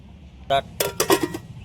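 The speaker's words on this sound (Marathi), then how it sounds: "आता याच्यावर ठेवू झाकण." Clanking metal as a lid is set on a pot of mutton curry cooking outdoors over cow-dung cakes: one sharp clank, then a short run of rattling clinks as it settles.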